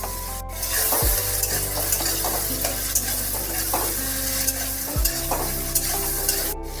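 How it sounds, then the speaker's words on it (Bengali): Ash gourd and ripe cucumber pieces stir-fried in hot oil in a pan, a steady loud sizzle with a low rumbling hum beneath and occasional scraping clatters as the spatula turns the vegetables. "দু এক মিনিট তেলের মধ্যে নেড়ে চেড়ে নিয়ে"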